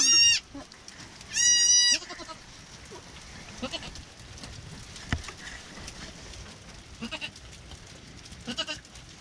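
Goats bleat in a barn during a storm, two loud close calls at the start, then quiet scattered knocks and rustles with faint bleats further off.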